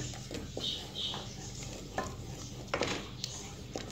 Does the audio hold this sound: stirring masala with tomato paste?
yes